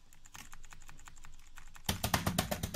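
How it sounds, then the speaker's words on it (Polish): A computer keyboard clatters during a Minecraft KitPVP game session: faint, scattered keystrokes at first, then a sudden loud, rapid burst of hard key presses close by. "Przepraszam, jak słyszycie klawiaturę, nie?"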